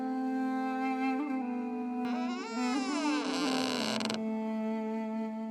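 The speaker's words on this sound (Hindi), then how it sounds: "जैसे ही वो दरवाजे तक पहुंचा, दरवाजा अपने आप बंद हो गया" In a haunted mansion in a Hindi horror cartoon, a door creaks shut by itself: a sustained, tonal creak that bends and wavers in pitch, swelling midway and then settling, loud and alone.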